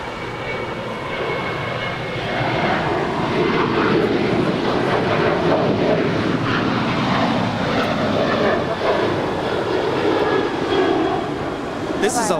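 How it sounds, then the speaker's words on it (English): Alaska Airlines Boeing 737-900 jet departing Los Angeles International Airport, a loud sustained engine roar holding steady throughout at close range. "This is Alaska Airlines Flight 512 departing to Zihuatanejo. It's a Boeing 737-900."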